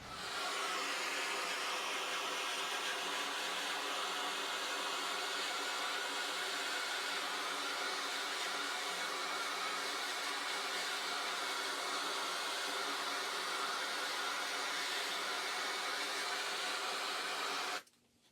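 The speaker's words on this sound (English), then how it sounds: "we're making sure we're using a blowtorch. We are heating thoroughly both sides of our cutting utensils" A blowtorch heats both sides of metal clippers and cutting tools to sterilize them before repotting an orchid. A loud, steady, close roar runs unbroken for about seventeen seconds, then cuts off abruptly.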